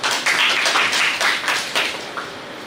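An audience at a neuroscience meeting session in Varanasi applauds a speaker, a steady, loud wash of clapping with slight swells throughout.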